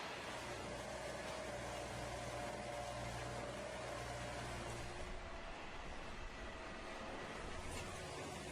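A track relaying train works with two gantry units moving sleepers, making a steady, fairly distant mechanical rumble that holds throughout.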